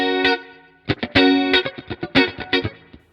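Sparkly clean electric guitar tone from a Tonex, playing short staccato funk chords and stabs in a choppy rhythm, bright and close with no talking.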